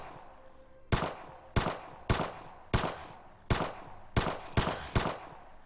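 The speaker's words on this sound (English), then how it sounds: "Let's go with the pistols this time on this guy down here." Eight sharp pistol gunshots from the Animallica video game, fired singly at irregular intervals of roughly half a second, each loud crack with a short decaying tail over a low game ambience.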